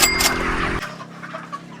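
Chickens on a farm being caught, 37-day-old birds crowded together, give a loud burst of clucking and squawking up close that cuts off abruptly, followed by quieter scattered clucks.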